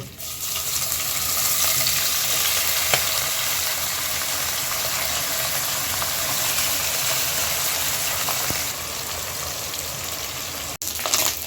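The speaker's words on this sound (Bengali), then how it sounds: "তেল গরম হয়ে গেছে, এখন মাছগুলো ভেজে নিব" Small kachki fish, coated in salt and turmeric, frying in hot oil, giving a loud, dense, continuous hiss that holds steady throughout with a brief dropout near the end and no talk.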